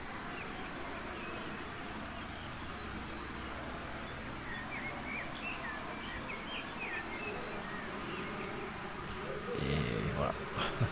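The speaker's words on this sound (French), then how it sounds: "donc ça grouille d'abeilles" Bees swarm around a flowering fruit tree in spring, giving a steady, close hum of many insects with scattered bird chirps. Toward the end the hum is joined by faint rustling and handling noise.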